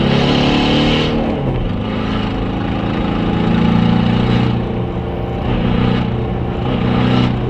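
Volkswagen TDI turbo diesel engine screaming at high revs, a loud, sustained droning roar with rising and falling surges in pitch, heard close and continuous without talk.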